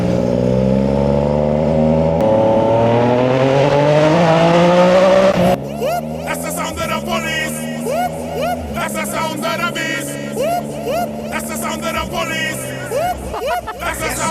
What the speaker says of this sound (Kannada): ಆ KTM ಅವರಿಗೆ ಸೌಂಡ್ ಖುಷಿ ಆಯ್ತಂತೆ, ತುಂಬಾ ಲೌಡ್ ಉಂಟು, ಆದರೆ ತುಂಬಾ ಸ್ವೀಟ್ ಉಂಟು ಸೌಂಡ್